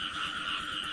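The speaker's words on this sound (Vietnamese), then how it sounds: "Đây con này con ếch đực." A male frog croaks continuously and close by, a steady buzzing call heard outdoors near murky water during a night frog hunt, with no talk over it.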